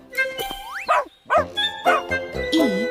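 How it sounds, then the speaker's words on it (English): A few short dog barks and yelps ring out among bright chiming tones, close and clear. "D is for dog that barks."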